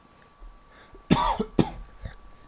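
Two or three sharp coughs close to the mic, with a short throaty clear, in an otherwise quiet room.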